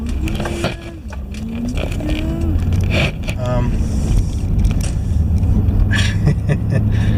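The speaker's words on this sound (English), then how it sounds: "now we're going to drive home the other way" A car rumbles along on the drive home from a bottle depot, a close, steady engine and road drone under a person talking throughout.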